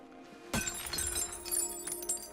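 Glass shattering in Assassin's Creed Syndicate, one sharp crash followed by scattered tinkling fragments and clinks that trail off, heard alone.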